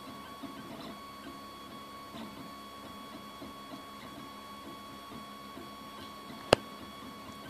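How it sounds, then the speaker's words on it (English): Geeetech aluminum Prusa i3 3D printer at work, a steady low mechanical hum with faint stepper whirring and light ticks throughout, plus one sharp click near the end. "So it's going to start printing the body now."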